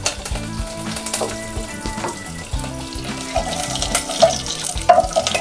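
Fenugreek, curry leaves and dried chili sizzle in hot oil in a pan for rasam, a steady crackling fry close by, broken by a few stirring scrapes and clinks.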